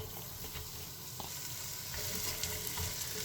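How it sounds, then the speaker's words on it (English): Onions sizzle steadily in a little oil in a pan while being cooked down for a rogan josh, a close, continuous hiss broken by occasional stirring scrapes. "Going to fry them for a few minutes and until they go soft and start to caramelise."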